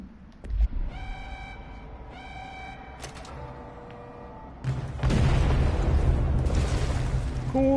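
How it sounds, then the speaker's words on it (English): Explosions in the video game Control thump and crackle amid the game's electronic beeping tones, building to a loud, sustained rumbling roar that fills the last few seconds. "Cool guys, don't look at explosions."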